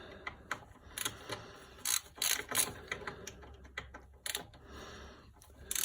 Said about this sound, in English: now we're just putting the brake calipers back on, and these are at 30 Newton meter